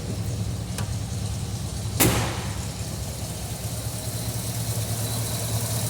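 A 1974 Ford Bronco engine idles steadily nearby, a low, even rumble with a faint click and a sharp knock or door sound briefly cutting in, and no one speaking.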